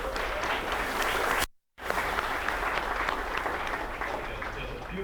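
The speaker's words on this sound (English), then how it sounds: "Everyone, round of applause for Workbench." An audience at a tech meetup claps in sustained applause, fairly dense and close, with a brief cut in the middle.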